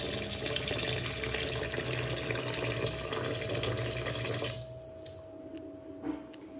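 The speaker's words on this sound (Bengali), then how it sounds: "এখন চিকেনটা ধুয়ে রাখছি" Tap water gushes steadily into a sink while chicken pieces are washed, then the flow stops and a few faint drips and clinks follow.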